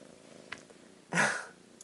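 A cat settles onto a spread of tarot cards and gives a brief, close rumbling purr, a short burst standing out against a quiet room with faint soft movements.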